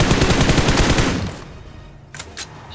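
Suppressed AKM fire in the battle royale game BGMI rattles off as a rapid, loud burst of shots for about a second, then fades, followed by two short sharp impacts.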